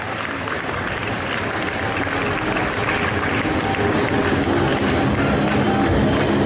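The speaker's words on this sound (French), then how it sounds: "Allez, les gars, applaudissements là." Audience applause fills a cosplay contest hall at Festival Yggdrasil Indoor 2019, a dense, steady clapping that stays loud and close from start to finish.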